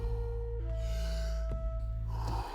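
Wim Hof breathing: a heavy, deep breath drawn in and then let go, close and prominent, over a steady low hum and faint tonal background.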